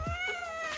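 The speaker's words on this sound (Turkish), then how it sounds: "Bak o da miyavlıyor bak Murat" A cat meows once in a short, clear, close call indoors at home, with no speech over it.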